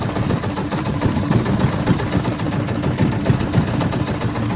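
A pump boat engine running at sea, a loud, steady, rough mechanical drone with fast pulsing vibration and no talk.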